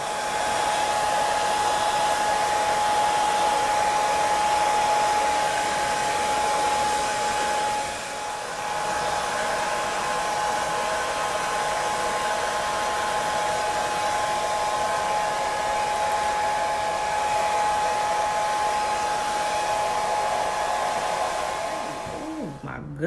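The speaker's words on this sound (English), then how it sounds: "And this is how I'm gonna be blow drying this hair this whole time." A hair dryer blows curly hair without a diffuser, giving a continuous close whine with a steady hum. It dips briefly about a third of the way through, resumes, and then cuts off at the end.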